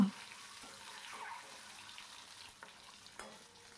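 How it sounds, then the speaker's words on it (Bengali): Four eggs, each slit in the middle, frying in hot mustard oil in a wok at home, a faint, soft continuous sizzle with a few light clinks and scrapes. "এটা সর্ষের তেল দিয়ে রান্না করব। ডিম 4টে ভেজে নিচ্ছি"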